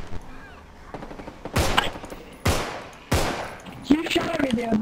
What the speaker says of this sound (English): You shot me, dude.